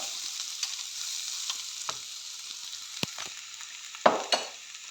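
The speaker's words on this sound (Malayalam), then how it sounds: "ചിക്കൻ മസാല ഇട്ടതിന് ശേഷം നന്നായിട്ട് നമ്മൾ ഇളക്കി കൊടുക്കുന്നുണ്ട്" Chicken with masala frying in a pan for Kerala-style pepper chicken curry, a steady close sizzle with occasional sharp spoon scrapes and clacks as it is stirred, no voices.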